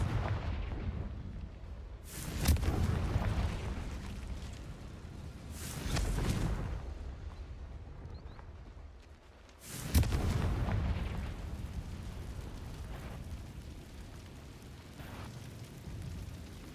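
Confringo fire spell blasts in the video game Hogwarts Legacy, three heavy booming explosions spaced several seconds apart, each with a rumbling tail that fades into a low background hum.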